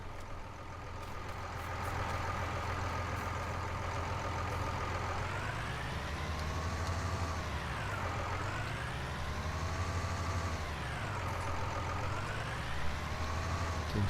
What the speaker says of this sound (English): the cement lorries come along here at a fair old pace